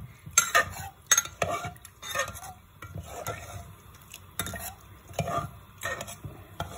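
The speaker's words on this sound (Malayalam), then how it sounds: "ഈ അരവ് നന്നായിട്ട് ഇതിൽ മിക്സ് ചെയ്യണം കേട്ടോ" A spoon stirs roasted ground paste into a cauliflower curry in a pot, making irregular scraping and clinking strokes against the metal with a faint simmer underneath. A brief word is spoken.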